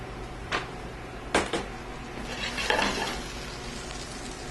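Brussels sprouts frying in an oiled pan in a cooking class kitchen, a steady crackling sizzle with a few sharp clinks and scrapes of stirring utensils against the pan, close up and moderately loud.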